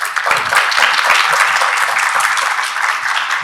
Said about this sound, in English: So give me a round of applause to our guests.